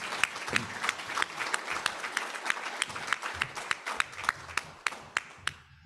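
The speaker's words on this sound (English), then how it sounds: "give them a round of applause" An audience at a Rotary presidential installation claps as two people are called up to the stage, brisk steady applause that thins out into a few sharp last claps.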